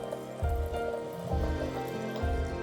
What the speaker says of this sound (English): you add enough water